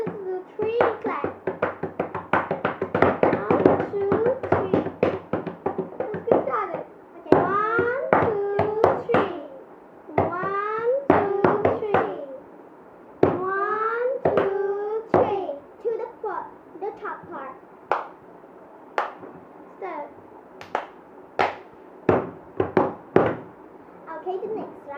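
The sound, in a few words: children clapping a three-clap rhythm in a hand game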